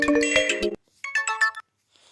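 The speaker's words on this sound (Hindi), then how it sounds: "तो चलिए मैं ज़रा अपनी रिंगटोन को ओपन करता हूँ" A phone ringtone plays as two short melodic bursts of bright electronic tones, each under a second, separated by a brief silence, loud and close with no speech.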